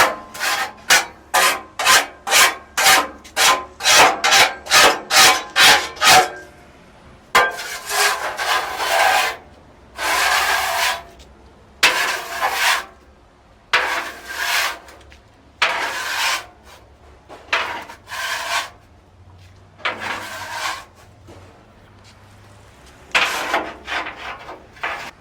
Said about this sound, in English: We're just scraping it,